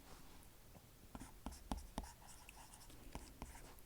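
Chalk or marker tapping and scraping on a board during a physics lesson on a mass-pulley problem, a run of short distinct strokes and taps over a quiet room with no talk.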